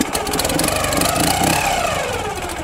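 A kickstarted motorcycle engine of a design unchanged for about 80 years idles steadily and close by, a continuous mid-pitched rumble with no talk over it.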